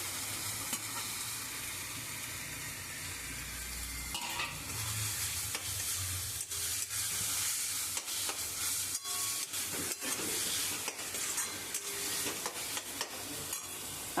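Grated coconut sizzles and fries in a pan for a vegetarian potato curry, with steady frying hiss and repeated scraping stirs of a spoon throughout, no talking.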